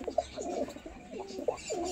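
Pigeons at a market sale coo in short soft bursts, a low murmuring call repeating several times at moderate distance amid faint background noise.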